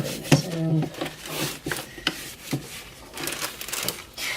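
Dye is rubbed by hand into leather cosplay straps, giving soft, close scuffing and rubbing strokes with a few light knocks and taps, quiet and uneven, alone without talk.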